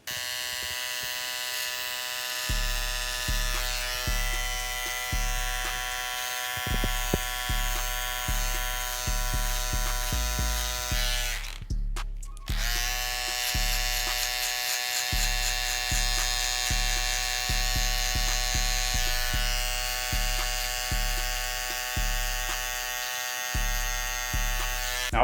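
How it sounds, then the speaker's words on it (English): Electric hair clipper buzzing steadily through a burst fade haircut, close and continuous for about 25 seconds with a short pause in the middle, pulsing slightly as it blends the hair. "we'll be using our clipper to blend this all out"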